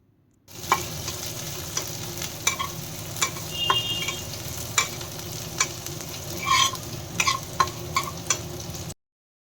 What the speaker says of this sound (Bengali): এবার আমি এর সাথে অ্যাড করে দিচ্ছি কিছুটা পেঁয়াজ কুচি আর অল্প কিছুটা রসুন কুচি দিয়ে ভালো করে নাড়াচাড়া করে নেব